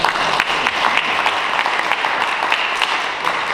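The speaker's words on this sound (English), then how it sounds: "Let's go ahead and give them a round of applause." An audience applauds, dense steady clapping from a small crowd, close and even throughout.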